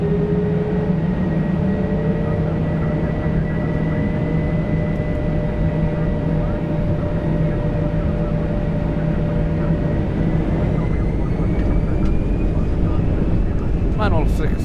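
Airbus A320 jet engines spool up for a takeoff run, a steady loud roar with a sustained whine that holds throughout, heard from the cockpit with a brief clatter near the end.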